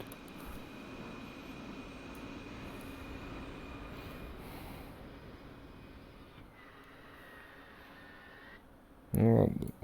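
An F-16C jet engine spools up in a flight simulator, a steady whining drone with a faint rising tone, followed by a brief burst of voice near the end.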